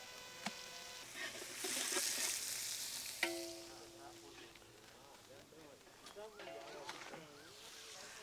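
Onions frying in oil with ginger garlic paste for mutton nalli curry, a steady soft sizzle with occasional stirring clinks, heard under a person talking.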